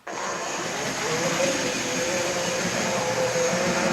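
A steady, continuous mechanical whir and hum of a small motor running, with a faint rising whine, unbroken for the whole stretch, from an OO gauge model LNWR Claughton steam locomotive pulling a little passenger train.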